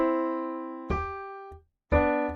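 Keyboard playing a melody note with a middle harmony note, two-note dyads held and changed in a short slow sequence, clean and close with a brief gap before the last one.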